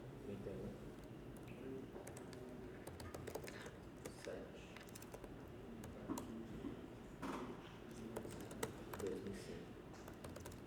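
Computer keyboard keys clatter in quick irregular bursts while coding in C, faint and close, with a person talking over the typing.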